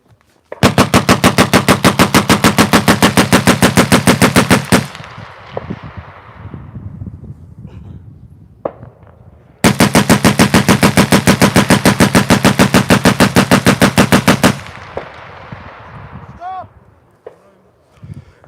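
A Vickers machine gun firing two long bursts at the normal rate outdoors at a commemoration of the Machine Gun Corps, each burst a loud, evenly spaced string of shots about four seconds long, followed by echoes and a quiet pause between.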